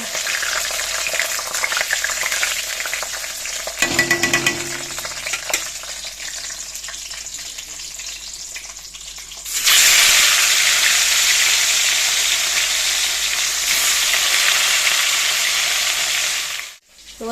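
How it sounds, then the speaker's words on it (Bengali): Fish fry in a wok with a close, crackling sizzle and occasional stirring, growing louder and more intense partway through. "একটাতে শুক্তো আর একটাতে মাছ ভাজা বসিয়ে মাছের ঝোলটা করে নেব"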